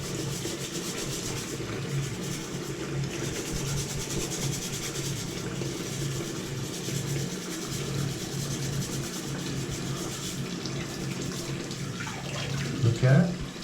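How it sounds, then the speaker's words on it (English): A soapy scrub brush scrubs a carved wooden face, giving a steady wet rubbing and swishing close by that runs continuously, with a voice heard faintly under it and a louder splashy burst near the end. "take a scrub brush. We're going to put a little soap on. And then we're going to scrub it."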